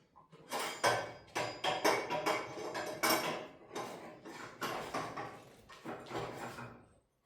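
On a 2x72 belt grinder, the tool arm is loosened with a series of close, rhythmic metallic clanks and ratcheting knocks, about a dozen strokes spread steadily across the span.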